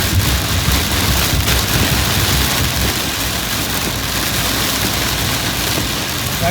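Heavy rain pours onto a Toyota Hyryder car, a dense, steady, loud hiss and patter heard from inside, unbroken throughout with a faint engine hum beneath.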